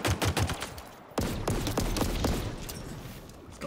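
Rapid pistol gunfire in a video game, bursts of sharp shots in quick succession with a pause, then a dense fast volley, loud and close.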